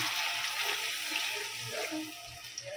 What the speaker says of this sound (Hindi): अब इसमें हम गिरेंगे पानी।